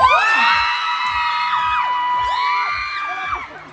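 Fan-meet audience shouting, screaming and cheering loudly in a sustained crowd roar, with several rising whoops and shrieks standing out above the din.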